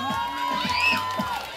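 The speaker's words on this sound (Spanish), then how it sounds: "¡Aplauso para ella!" A live audience at an outdoor company picnic fiesta show cheers and whoops for a woman who just sang, with crowd noise and shouts rising and falling steadily at moderate volume throughout.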